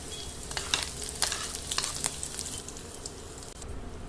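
Cashews frying in hot oil with dried red chillies for a poha tempering, a constant close sizzle broken by occasional crackles and light stirring taps, with no voices.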